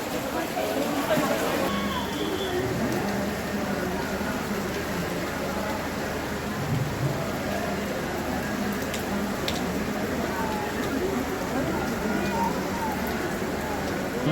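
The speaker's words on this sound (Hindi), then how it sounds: "बारिश उसी पेस में हो रही है लगातार" Steady rain patters continuously on surfaces nearby, an even wash of drops with no letup throughout.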